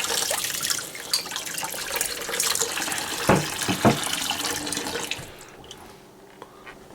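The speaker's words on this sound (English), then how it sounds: "Let me wet it so we can see inside without it fogging." Tap water runs and splashes over a frozen container, a steady close rush with brief louder gushes midway, tapering off toward the end, no talk.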